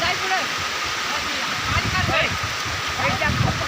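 Randa waterfall pours in a loud, steady rush of churning water where people are swimming in cold water, with voices faintly audible beneath the roar.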